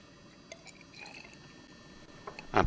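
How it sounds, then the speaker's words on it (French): Drops of sodium hydroxide solution fall into a glass test tube during a chemistry test, faint and quiet over a low background hiss, ending in a brief louder liquid splash. "on verse quelques gouttes de soude"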